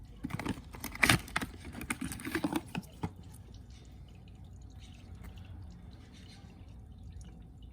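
Engine oil drains from a 2.4L Jeep Cherokee with a quick run of close, irregular drips and spatters at first. These thin out into a quiet, low background with only faint occasional drops.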